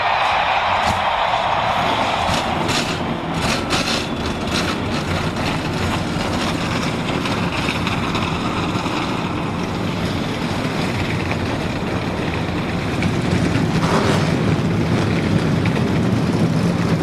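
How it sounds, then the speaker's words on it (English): A field of race car engines fires up at the start of the 2004 Food City 500 NASCAR race, a dense, continuous roar of many engines that stays loud and steady with slight swells throughout. "gentlemen, start your engines."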